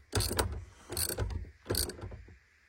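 A ratchet tightens a cable terminal in the trunk of a BMW 140i, giving three separate bursts of rapid mechanical clicking, close and fairly loud, with short pauses between strokes.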